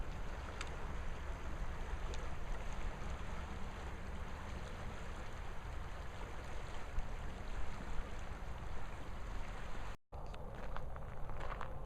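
The Bear River flows in a steady broadband rush, heard alone with no one speaking and briefly cut off near the end.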